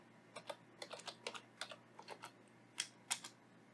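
Typing a track name on a computer keyboard while editing audio in DaVinci Resolve 16: a run of quick, close keystrokes in uneven bursts, with two sharper, louder taps near the end, heard alone over a faint hum.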